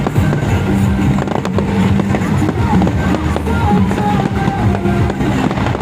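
Fireworks crackle and pop continuously over a dense, loud crowd din at Luneta Park, with people talking and shouting throughout.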